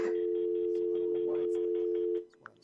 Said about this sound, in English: It's a dial tone for some reason.